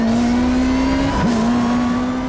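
A car engine in the racing video game NFS Rivals drones loud and steady at full throttle, holding one pitch with a brief dip partway through.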